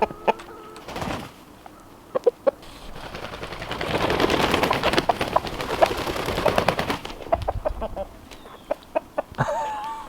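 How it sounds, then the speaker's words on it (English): Homestead chickens cluck and squawk close by, with sharp clicking taps and a dense rush of fluttering, scuffling noise through the middle; no one speaks. "They're new chickens to the homestead this spring"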